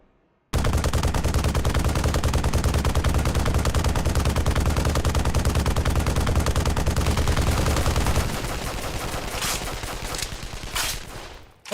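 Turret gunfire in an Unreal Engine 5 video game: a loud, dense machine-gun barrage fires continuously for about eight seconds, then thins into a quieter, more scattered stretch with a few sharp bursts near the end.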